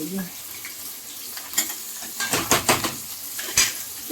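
Onions fry in a pan for mango pickle, giving a steady sizzle broken by several scraping, clinking stirs of a utensil against the pan.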